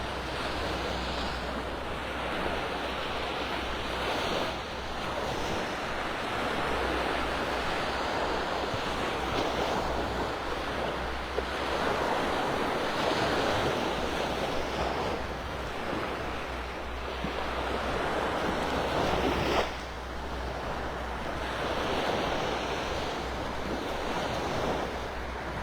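Steady ocean surf rolling onto Delnor-Wiggins beach in North Naples, a continuous wash of breaking waves with wind buffeting the microphone, no voices.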